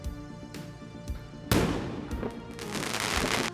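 Fireworks fired toward a house: a few soft pops, then a sharp loud burst of crackling explosions that keeps sputtering and crackling until the end, close and with no talk over it.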